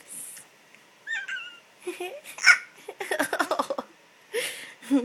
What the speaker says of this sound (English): You always have hiccups.